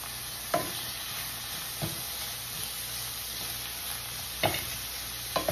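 Carrots and cabbage stir-fried in a pan for Yang Chow fried rice: a steady soft sizzle with a few sharp scraping stirs of a utensil against the pan, close and alone.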